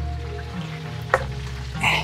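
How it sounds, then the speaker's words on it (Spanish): Chicken sizzling as it fries in a home kitchen pan, a steady close crackle with a sharp pop partway through. "Aquí friendo el pollito para mi papá."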